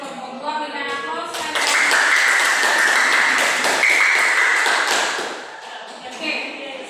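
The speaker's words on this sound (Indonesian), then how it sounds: "Berikan aplaus." Students in a classroom break into applause, a few seconds of dense close clapping that swells and then fades, with a teacher's voice speaking before and after it.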